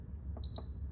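An Instant Pot gives two short, high electronic beeps in quick succession as cancel is pressed, heard alone over a faint low room hum.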